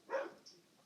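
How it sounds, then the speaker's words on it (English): A single dog bark sounds nearby indoors in a makeup session, one short sharp burst that fades quickly into quiet. "Sorry about my dog barking"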